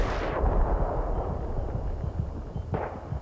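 A heavy, loud blast from an RPG hit in Battlefield 3 fills the start and decays into rumbling debris, with a second sharp impact near the end, close and without voices.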